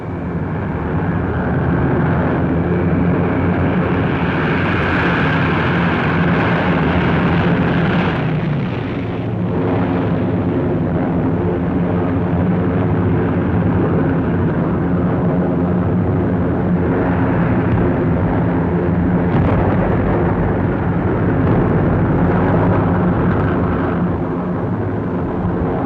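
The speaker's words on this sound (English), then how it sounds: "One observer called the seemingly endless waves of planes the most imposing aerial parade I have seen" Massed waves of WWII bomber aircraft roar overhead during the Operation Cobra bombing run in Normandy, a dense, continuous drone of engines with rumbling detonations swelling and fading throughout, loud and sustained.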